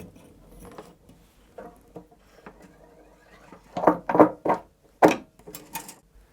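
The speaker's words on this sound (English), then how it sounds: "You can now do a few turns on the counter nut and pull the jack back in position." A counter nut on a guitar output jack is turned by hand, giving soft clicks and small metallic ratcheting rattles that grow into a few louder, close scraping clicks near the end.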